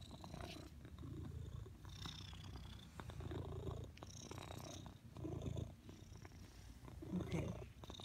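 A cat purring loudly and very close, a continuous rumbling purr in rhythmic breathing cycles of about a second each, with faint household background.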